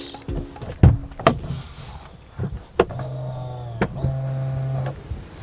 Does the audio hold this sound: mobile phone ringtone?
no